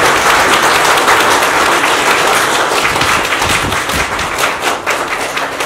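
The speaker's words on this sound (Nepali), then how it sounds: "एकदमै ताली बजाइदिनु सबै" A crowd at a book launch ceremony in Nepal gives sustained, loud applause, a dense wash of many hands clapping close by that eases slightly toward the end.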